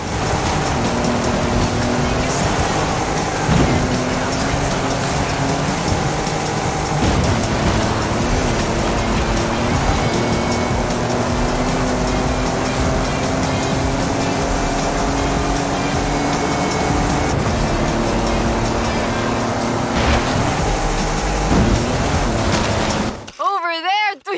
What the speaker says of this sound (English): I'll take any excuse to drive this car through the heart of the storm.